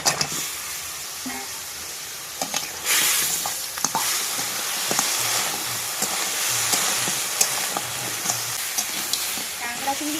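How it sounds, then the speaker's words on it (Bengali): Crabs and prawns hit hot spiced masala in a pan and sizzle loudly and steadily, with occasional scraping and stirring knocks as the dish fries. "এবার কাঁকড়া চিংড়ি মাছগুলো দিয়ে দেবো।"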